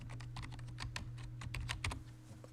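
Rapid, steady typing on a computer keyboard, a close run of quick clicks over a faint low hum.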